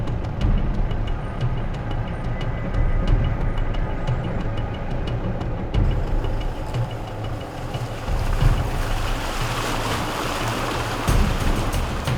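Shallow flowing stream in rural Agusan del Norte being waded across, a steady rushing water wash with a low engine-like rumble throughout, fairly loud and close.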